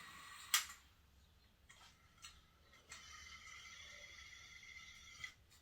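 A small fidget toy cube being worked by hand, making sparse mechanical clicks and ratcheting snaps, with one sharp click near the start and a longer grinding run later, close and quiet, with no talking.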